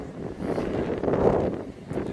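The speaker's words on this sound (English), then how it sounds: "Getting a bit windy, a bit choppy" Steady wind buffets the microphone with a low, rumbling roar that swells and eases over a couple of seconds.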